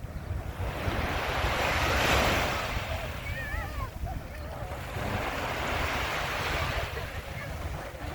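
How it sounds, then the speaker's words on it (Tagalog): Surf at Mamzar Beach in Dubai swells and breaks in two broad washes, close by with wind buffeting the microphone, while birds chirp faintly partway through. "Dito kami ngayon sa may beach, sa may Mamsar Beach."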